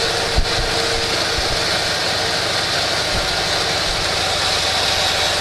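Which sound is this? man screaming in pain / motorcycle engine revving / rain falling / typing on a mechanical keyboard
motorcycle engine revving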